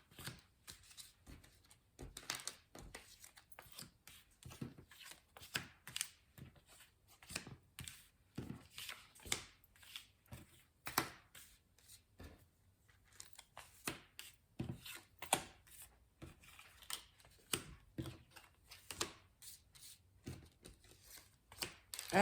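A 32-card deck is shuffled by hand for a card reading, giving a steady run of soft riffling and slapping bursts that continue throughout, close up with no talking.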